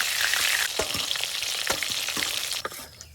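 Steady loud sizzling of bhola fish frying in hot oil, with occasional pops and scraping stirs, continuous throughout and fading slightly at the end.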